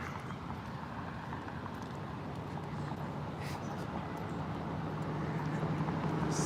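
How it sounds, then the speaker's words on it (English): A truck and a car drive through a road intersection, making a low traffic rumble that slowly swells louder toward the end, with faint clatter on top and no speech. "It's a truck going through the intersection and this one next to me at the same time."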